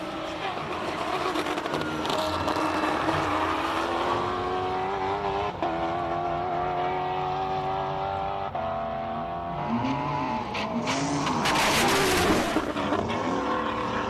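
A Shelby Can-Am race car climbs a hillclimb course, its engine note rising and falling through gear changes at a distance, with steady broadband roar and commentators talking over it.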